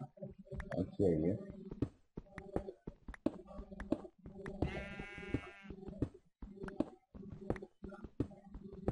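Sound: sheep bleating in a video game

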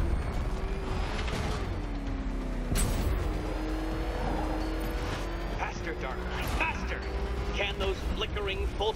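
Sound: Batmobile engine accelerating with afterburner, from the video game Batman: Arkham Knight

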